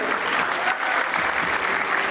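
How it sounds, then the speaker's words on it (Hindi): An audience at a college event applauds, a dense, continuous clatter of many hands clapping steadily throughout, loud and close, with no other sounds standing out. "कृपया तालियां बजा के हौसला अफजाई करते रहे।"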